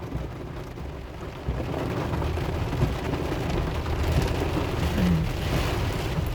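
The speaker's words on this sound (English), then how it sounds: "It's already been raining for a few minutes." Steady rain pours on a street the day after Hurricane Dorian, a dense continuous hiss with low rumbling beneath that swells slightly after the first second and holds.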